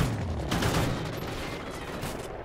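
Rapid automatic gunfire in the multiplayer shooter Call of Duty: Ghosts on the Freight map, a dense, loud burst of overlapping shots filling the whole moment.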